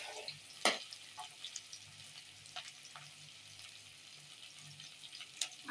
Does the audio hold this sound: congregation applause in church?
no